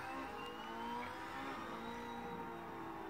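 A race car in NASCAR Heat 4 holds a continuous loud engine whine, steady and close, with no pauses.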